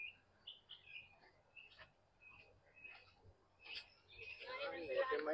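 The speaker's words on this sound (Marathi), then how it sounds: "तिथे पक्ष्यांचे खूप आवाज वगैरे येतात." Birds chirp and call at an aviary in Daman, with a string of short tweets spread through the clip and a denser burst of overlapping calls near the end, fairly faint.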